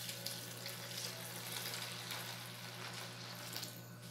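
Boiling water, about one litre, poured into an old pot, a steady rushing splash with low hum underneath, no talking.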